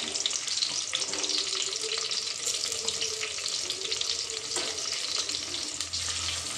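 Onions frying in a clay pot for a Kerala-style fish curry give a steady, dense sizzle that runs continuously throughout, close and fairly loud with no talking.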